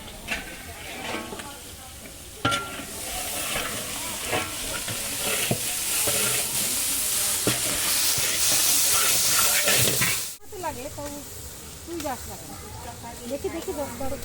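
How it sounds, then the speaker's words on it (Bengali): Carrots and beans fry in a pan for fried rice while cooking for a large household function, sending up a loud, steady sizzle and hiss with occasional stirring scrapes, and a voice speaks briefly near the end. "ফ্রাইড রাইসের জন্য গাজর ও বিনসগুলো ভেজে নিচ্ছি।"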